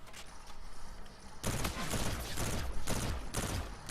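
Rapid gunfire bursts from a first-person shooter match in Black Ops 3 or Infinite Warfare, loud repeated volleys after a quieter opening, with game ambience underneath.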